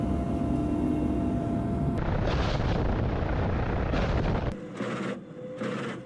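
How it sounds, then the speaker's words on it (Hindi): Mi-28NM attack helicopters fly during the ZAPAD-2025 military exercise and fire rockets. Heavy, loud roaring blasts and a dense rumble fill the scene, broken by abrupt cuts, with no talking. "Mi-28NM हेलीकॉप्टर की उड़ान और युद्ध अभ्यास के दौरान रॉकेट भी दागे गए"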